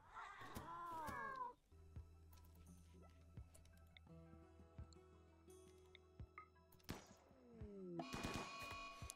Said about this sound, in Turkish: Hey, kediymiş la bunlar.